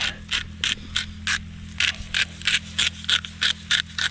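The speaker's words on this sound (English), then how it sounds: "We use this garlic pepper seasoning grinder." A garlic pepper seasoning grinder twisted by hand at an outdoor campground cookout, giving a steady run of about a dozen short, close, gritty ratcheting grinds in an even rhythm over a low background hum.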